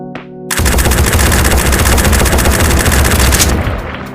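Sustained automatic fire from an FN MAG / M240B machine gun in the VR shooter Tactical Assault, shot standing: a dense, loud, continuous burst of about three seconds, opened by a brief handling click, with no talking.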